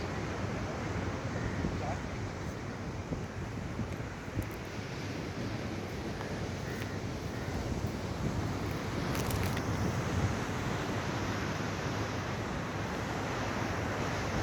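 Rough sea pounds the beach beside Mandaikadu Devi temple in Kanyakumari district, a loud, unbroken roar of surf mixed with wind buffeting the microphone.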